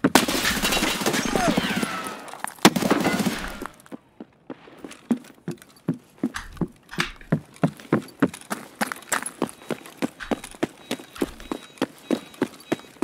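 Gunfire in a video game: a loud burst of noise up front, then a steady run of sharp, evenly spaced shots or hoofbeat-like clicks that keep going for about nine seconds.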